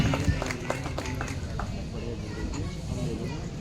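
A crowd at a political rally claps in scattered, uneven bursts, with the loudest sharp claps in the first couple of seconds and a steady murmur of voices and crowd noise running underneath throughout.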